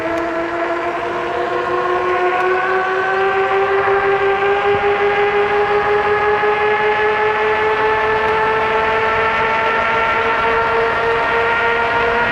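An Aostirmotor A20 e-bike rides at full throttle, giving a steady, loud, rising motor whine with strong tonal harmonics that climb slowly in pitch throughout, alone without speech.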